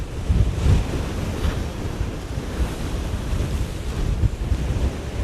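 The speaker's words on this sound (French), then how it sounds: "les vagues sont de plus en plus hautes" Big waves break and roar along the Scottish coast under heavy, gusting wind buffeting the microphone, a dense continuous wash of surf with rising surges and no voices.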